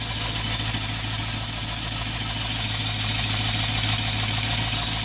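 A 1997 Land Rover Discovery's 4.0 V8 idles steadily, a low, even engine rumble with a faint rhythmic pulse, close and continuous with no talking.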